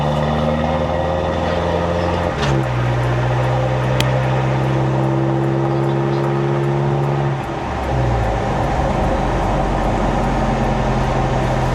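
A 2026 Mitsubishi Triton pickup with a 4N16 engine and full aftermarket twin-tip exhaust drones steadily while driving, its deep rumble stepping up and down with gear changes, loud and close throughout.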